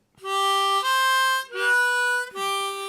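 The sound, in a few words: harmonica lick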